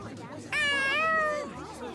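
A single drawn-out cat meow rises and falls over about a second in the video game Tales of Xillia 2, clear and close against a quiet game background.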